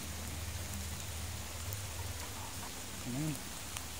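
Rain falls steadily on a farm in a continuous patter and hiss, moderately loud and near, with a brief low hum or voice-like sound rising near the end.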